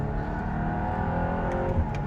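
An Aston Martin hypercar engine accelerates hard up close, giving a loud, continuous, dense roar that stays steady from start to finish.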